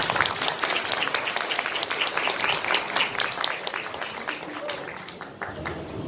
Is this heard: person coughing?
no